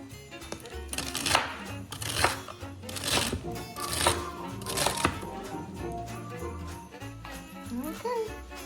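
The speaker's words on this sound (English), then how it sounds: "I'm going to chop up some of this garlic" Garlic and vegetables being chopped with a knife, a run of close, crisp blade strikes in uneven bursts about a second apart, with softer scrapes and light clatter between them.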